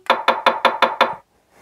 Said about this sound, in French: T'as même le bruit de quelqu'un qui vient taper à la porte